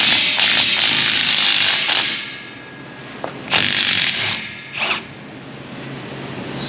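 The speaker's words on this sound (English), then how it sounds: "let's go ahead and pull the bolt out" A ratchet clicks and rattles in short bursts, loosening a bolt from a bracket on a Chevy Silverado Duramax 6.6 pickup. Quieter mechanical handling noise fills the gaps between the bursts.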